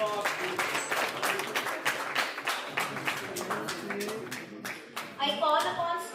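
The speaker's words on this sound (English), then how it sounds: "Round of applause." A conference audience claps throughout, a continuous patter of applause with a few sharper individual claps standing out, fading slightly toward the end.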